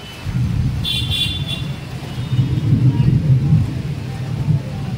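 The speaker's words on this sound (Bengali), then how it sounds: "অবশেষে দেখো বৃষ্টি হচ্ছে, দেখতেই পাচ্ছ, খুব জোরে নয়, হালকাই হচ্ছে।" Light rain falls as a constant hiss over a deep, rolling rumble of thunder that keeps swelling and fading throughout, fairly loud and close.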